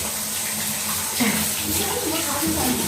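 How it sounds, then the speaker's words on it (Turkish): Water runs steadily from a sink tap as someone washes their face, with a close, continuous splashing hiss and small shifts as hands move through the stream, and a voice faintly audible underneath. "Hemen şimdi yüzümü yıkayacağım."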